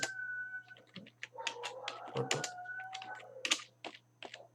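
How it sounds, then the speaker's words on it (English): Rapid, uneven clicking of a computer keyboard being typed on, close and fairly quiet, with a steady low hum underneath. "So I'll be typing."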